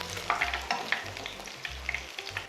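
Baguette shrimp toast pieces are deep-fried in hot oil and flipped over, giving a steady close sizzle and bubbling with occasional clinks and scrapes of the utensil, with no voices.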